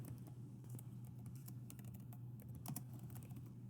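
Quick, light clicks come from a computer keyboard as search terms are typed into an online catalog search box. The key taps are irregular and close, over a low steady hum, with no speech.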